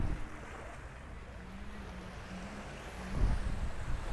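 Ocean surf at a Fort Myers beach in Florida washes in as a continuous broadband roar, with low wind rumble on the microphone and a slightly louder surge near the end.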